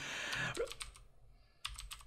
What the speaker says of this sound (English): Could you stop typing? It's so loud. Mechanical keyboards, yo.